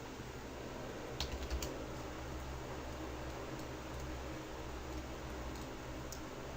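Keyboard keys tapped in a light, irregular patter over steady fan hum, close and faint, with a couple of slightly firmer clicks near the start.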